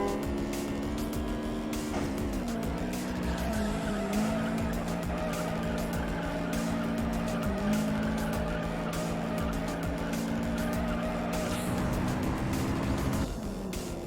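A Mazda RX-7 racing with nitrous in the video game Juiced, its engine note loud and continuous, rising and falling through gear changes, with tire squeals and skids through the corners and no talking.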